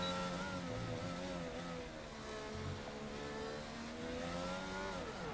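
A Formula 1 race car engine from an F1 video game at the Bahrain GP, steady high-pitched whine rising and falling as the car drifts, continuous and fairly loud.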